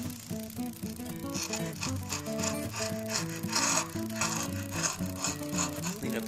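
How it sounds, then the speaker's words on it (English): A paring chisel shaves and scrapes across wood in a workshop after router plane work, giving steady rasping strokes in a quick rhythm, close and moderately loud, with music playing underneath. "Back with a paring chisel."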